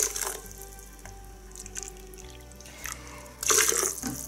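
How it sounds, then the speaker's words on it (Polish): Slightly hot, unboiled water poured into a blender with coconut flakes for homemade coconut milk, a soft splashing trickle with brief louder bursts near the start and end. "wlejemy teraz 3 ml lekko gorącej wody"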